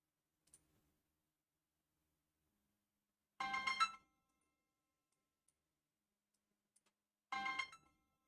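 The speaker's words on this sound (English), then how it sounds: "Hello, phone call." A phone ringtone gives two short bursts of bright electronic chiming, several seconds apart, against near silence apart from a faint click or two.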